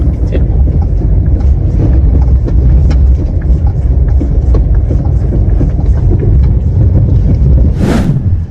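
Mechanical rattle from a worn stabilizer link in a Toyota Agya's front suspension, recorded as a steady, loud rumbling noise with wind across the microphone for several seconds and a brief hiss near the end.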